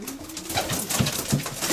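Racing pigeons coo in a loft, a few low rolling coos repeating close by against a steady background hum, with no talk over them.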